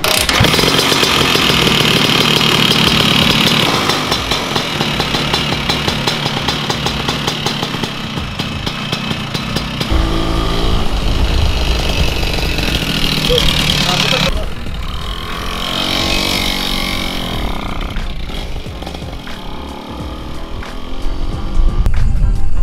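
A Vespa Spartan scooter engine runs on test at a Vespa tuning workshop, a loud, close two-stroke buzz that rises and falls with revs while people talk over it.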